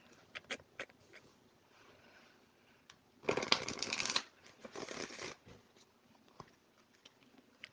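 A deck of playing cards is shuffled in someone's lap at a small desk, with two loud riffling bursts in the middle and scattered soft taps and handling noises around them in a quiet room.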